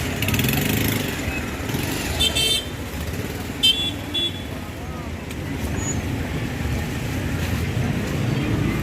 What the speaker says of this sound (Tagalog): Daming pang motor na pumapasok.